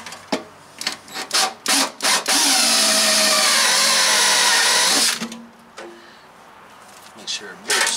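A power tool drives through bolts for battery straps on a teardrop trailer build, running in one loud, steady whir of about three seconds with short bursts and handling sounds before and after, while a person talks.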